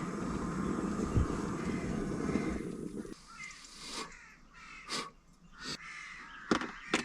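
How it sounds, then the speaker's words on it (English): Crows cawing outdoors by a parked van in the Lake District: a low rumble fades at first, then several sharp, separate caws ring out at irregular intervals, moderately close and without talk. "Bloody crows are at it again"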